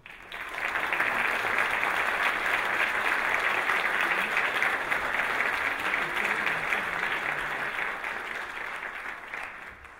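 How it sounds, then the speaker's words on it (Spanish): An audience at an international essay prize award ceremony breaks into sustained, even applause that fills the room and carries on steadily without talking. "para quien pedimos un fuerte aplauso."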